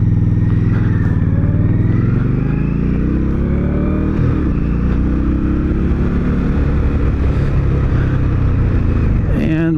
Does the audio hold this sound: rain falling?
no